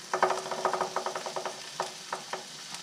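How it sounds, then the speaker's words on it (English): Butter added to a hot pan after pan-frying pecan-crusted speckled trout, giving a series of short crackling sizzle bursts with a few stirring clicks, fairly close and with no talking. "Put in another 2 tablespoons of butter."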